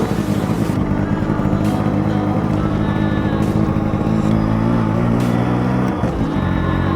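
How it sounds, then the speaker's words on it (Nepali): A 1990s Yamaha RX 100 two-stroke motorcycle ridden on a road in Nepal, its engine droning loudly and continuously, with shifts in pitch as it revs and changes gear. "यो 1990s को RX 2 स्ट्रोक बाइक है"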